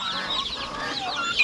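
Turkey chicks on a farm, a cluster of high, thin peeping calls overlapping continuously at close range.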